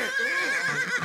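A horse neighs in a Motu Patlu cartoon, a single loud, wavering whinny that fills about a second, close and alone.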